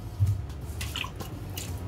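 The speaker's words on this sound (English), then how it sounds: "pour some lime juice in the water" Lime juice poured into a bowl of water for washing goat meat in a kitchen, soft brief drips and a light trickle, faint and close with no talking.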